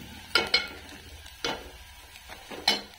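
Chopped onion being stirred and roasted in a pan for a village-style goat mutton rassa, with a few sharp scraping stir strokes over a steady low sizzle, close and fairly loud.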